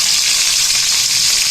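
Aromatics sizzle and fry in melted butter in a pan, a close, steady hiss of crackling fat that stays loud and continuous without any talk.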